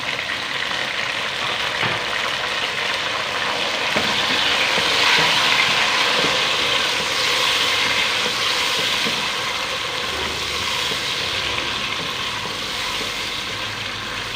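Tomatoes dropped into ginger and garlic frying for chicken curry: a steady, loud hiss and sizzle of oil that holds on evenly throughout, with faint scraping under it and no talk.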